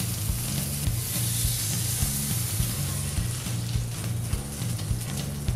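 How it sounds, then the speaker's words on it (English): Pork sears in a hot pan with a loud, steady crackling sizzle, dense and continuous from start to finish, close up with no talking. "Sear the outside of the pork."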